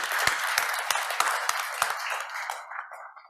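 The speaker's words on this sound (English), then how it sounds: "please give a round of applause" Applause at an energy conference panel in Prague thanks the moderator, with several sharp, distinct claps standing out over a dense patter before it trails off abruptly near the end.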